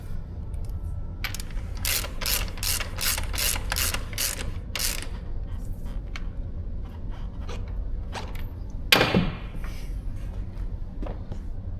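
A ratchet tightens the front wheel shaft on a Kove 450 Rally motorcycle during a dealership service, producing a steady run of about ten close, crisp clicking strokes, then a few sparse clicks and a brief clank.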